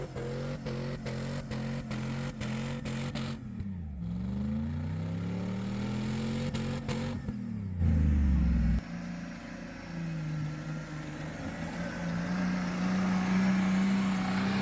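An antique 4x4 Jeep with a V6 engine climbs the Moab Rim, its engine revving and droning with rising and falling pitch, loud and close throughout, with a few brief voices underneath.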